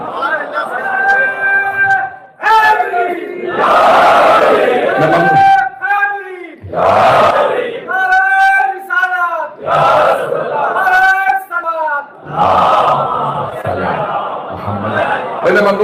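An audience at a Shia religious majlis chants slogans in loud, rhythmic bursts, many voices together, broken by short pauses between the calls.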